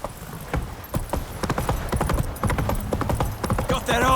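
Horse hooves clip-clop at a brisk, regular pace in The Witcher 3 video game. The hoofbeats are close and loud, with a faint whinny-like sound near the end.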